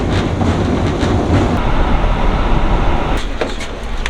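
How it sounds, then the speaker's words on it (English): An old tram in Budapest rumbles along its rails, a loud, steady rolling roar with faint clicks and squeaks, no voices heard. "A short tram ride later,"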